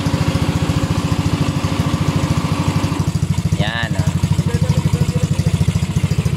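Air compressor motor for setting up a 170cc oil-cooled engine runs loud and steady with a rapid, even pulsing throb throughout, while someone speaks briefly over it.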